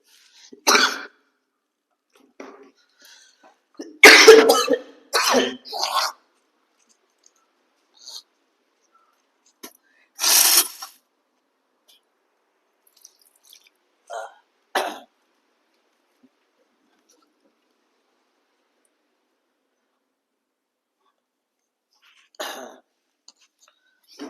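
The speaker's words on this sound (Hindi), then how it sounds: "थोड़ा सर्दी हो गया इसलिए बीच में खांसी आ गया" Several bursts of coughing and throat clearing from a person with a cold, close and fairly loud, scattered across stretches of near silence.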